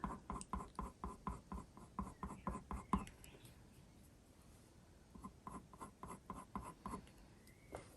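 A black coloured pencil makes gentle strokes on paper while drawing brown dog fur, a quick rhythmic scratching run close up that pauses briefly and then resumes.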